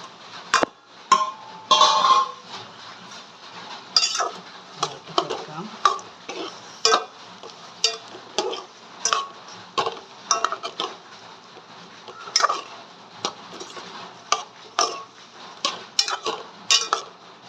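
Mango pickle stirred in a metal pot with vinegar added, a spoon scraping and clanking against the sides in repeated sharp strokes over a soft bubbling background.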